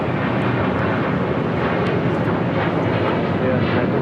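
A Hawaiian Airlines Airbus A330-200 on Flight 33 to Kahului rumbles at LAX, a loud, broad, continuous jet roar that holds steady throughout.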